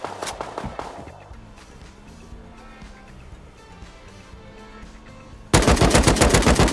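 Automatic gunfire in the survival video game Rust, a loud rapid burst of shots near the end after a murky stretch of game ambience.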